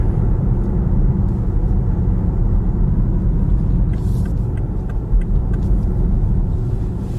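A BMW X4M Competition cruising through a city at night with an automatic gearbox, giving a steady, close engine and road rumble that holds evenly throughout with no talking.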